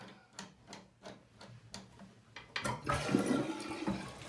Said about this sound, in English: Check the flush.